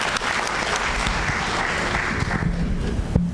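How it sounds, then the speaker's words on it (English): Enthusiastic applause from an audience, a dense steady clatter of many hands clapping for a few seconds. "So a round of applause for the work that Anna Mae did to bring that."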